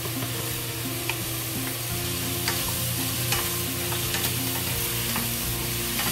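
Eggs with mushrooms frying in a pan, a steady loud sizzle throughout with occasional scraping and stirring clicks, close and continuous, no talking.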